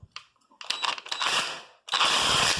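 A Parkside PASSK 20-Li A1 cordless impact wrench at max torque rattles close up in two loud bursts, a short stuttering run followed by a sustained hammering whir after a brief pause.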